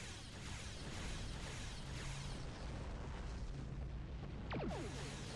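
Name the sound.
starship cannons firing in video game Star Trek Online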